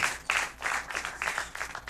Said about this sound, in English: Please, a round of applause for all my contestants again.